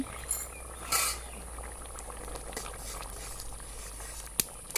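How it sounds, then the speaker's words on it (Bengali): A pot of mung dal with fish head bubbles at a low simmer, with faint popping and a few sharper clinks and splashes over a quiet, steady background. "আমি ডালটা ফুটে উঠেছে"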